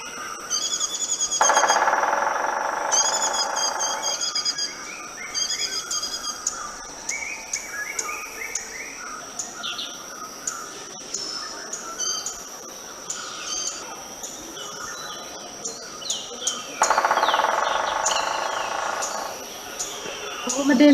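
Rufous woodpecker recording played back, with repeated bursts of rapid drumming or calls alongside chirping insects and other bird song in a wetland setting, moderately loud and without talk.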